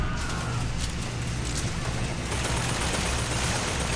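A turret in the video game Bioshock Infinite fires a dense, sustained stream of gunfire, loud and continuous, over a noisy game soundscape with no clear break.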